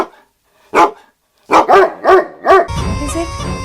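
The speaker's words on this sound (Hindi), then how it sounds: "अरे दीदी तो कुत्ते आपस में लड़ रहे हैं" Dogs bark in a burst of sharp, close barks: one single bark, then four quick ones in a row, before the sound gives way to a busy, noisy rumble.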